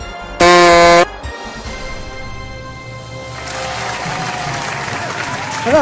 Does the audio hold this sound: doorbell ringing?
no